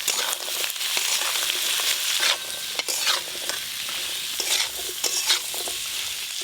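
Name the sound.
frying jackfruit seeds and potatoes with onion in pan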